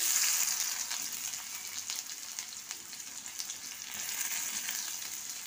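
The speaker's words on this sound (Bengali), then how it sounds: "কড়াতে প্রথমে আমি তেল দিয়ে দিলাম। আগে পেঁয়াজটা দিয়ে দিলাম।" Onion hisses in hot oil in a kadai, a close, even sizzle that swells and eases slightly while the pan is worked, with no talking over it.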